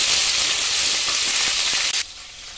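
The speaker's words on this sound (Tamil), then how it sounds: "நல்லா வதங்கட்டும்." Ten garlic cloves and a handful of small onions sautéing in oil make a loud, close, even sizzle that cuts off abruptly after about two seconds, leaving a faint hiss.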